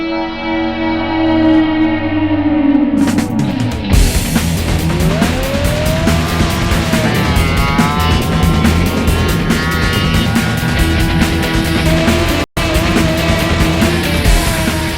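A drag race car on second-stage nitrous launches hard, with a loud engine note that drops sharply, then a howling, rising roar and tire squeal as it pulls away. The sound is distorted and echoing, with a brief cut near the end.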